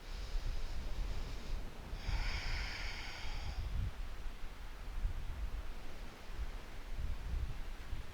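Slow, audible yoga breathing on a beach: a long airy inhale or exhale, then a stronger, brighter breath lasting nearly two seconds, set against a constant wash of surf-like noise.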